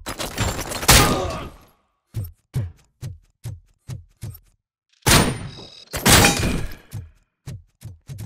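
Gunfire in RoboCop: Rogue City comes as two heavy, loud bursts, each followed by a run of evenly spaced single metallic shots, clanging and thudding with near silence between them.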